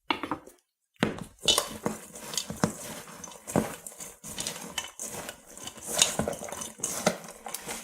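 Salt being mixed into shredded cabbage in a jar for lemon-parsnip sauerkraut gives busy clattering and scraping, a short pause near the start, then dense, uneven clinks and rustles close by with no talk.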